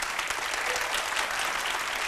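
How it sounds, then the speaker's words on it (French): A television studio audience applauds at a midday show, dense, steady clapping from many hands filling the short stretch at an even level. "Je voudrais qu'on applaudisse pour l'école Farandole Internationale."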